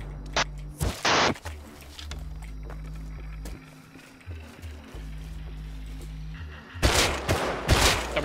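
Several loud, sharp gunshot bursts from a Python revolver in the game Rust, two close cracks near the start and two more at the end, with low engine-like rumble droning underneath.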